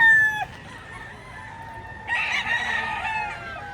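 Young roosters (stags) crow loudly at the start, then a second, longer crow rises mid-clip with clucking around it, close by and with no one talking.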